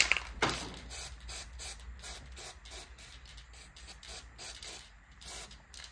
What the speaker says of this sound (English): I'm gonna use a copper based spray. I'm gonna spray the inside of it so that the brake pads don't stick